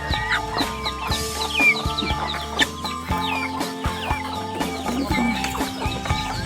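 Several chickens cluck and squawk at close range in an agitated, overlapping chorus with sharp calls breaking through.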